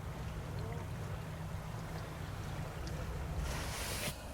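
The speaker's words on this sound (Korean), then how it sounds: "이거 바람이 장난 아닙니다. 지금 파도가 일어가지고" Wind-driven waves wash continuously on Sapgyo Lake at a shoreline fishing spot, with a steady low rumble of wind buffeting the microphone and a brief hissy surge near the end.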